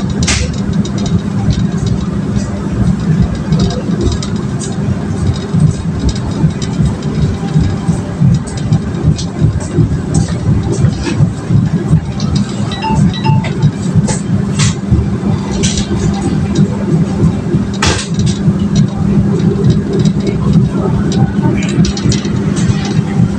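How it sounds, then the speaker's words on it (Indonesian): The Argo Parahyangan passenger train departs Bekasi station, heard from on board as a continuous low rumble and rolling drone with intermittent clicks and knocks over the whole stretch. "Kereta api Argo Parahyangan meninggalkan stasiun Bekasi."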